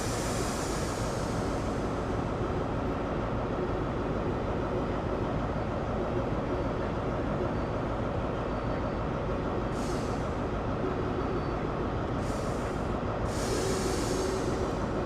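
HST train braking in the Train Sim World simulator on the GWR Reading to London Paddington route, a loud continuous rumbling roar of rolling stock, with a few short hissing bursts of air near the end.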